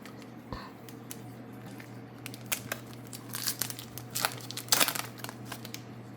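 Foil Pokemon TCG Destined Rivals booster packs being torn open, with close crinkling and tearing in irregular bursts that grow busier and louder toward the end over a low steady hum.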